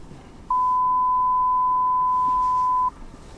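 BMW i8 electric car's proximity sensor emits one steady, loud electronic tone lasting over two seconds, clean and unbroken against quiet cabin background.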